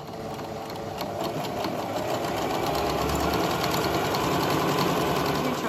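A sewing machine stitches fabric with a steady, fast mechanical rattle that runs continuously, close and fairly loud, without any talk.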